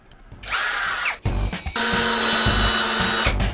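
A Grand DA 20-2 BL brushless cordless drill drives a 6x120 mm lag screw into wood, whining loudly in bursts and bogging briefly before a long steady high run close by.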